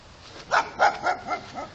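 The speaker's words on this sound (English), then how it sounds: "That's Maggie, the dog" A dog in a backyard barks five times in an even rhythm, close and loud, each bark short and sharp over quiet background.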